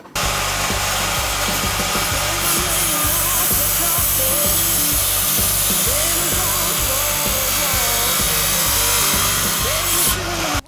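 A GRAND circular saw runs loud and steady, biting through a 100 by 100 mm wooden beam with a rough, grinding whine and regular pulsing, then cuts off abruptly at the end.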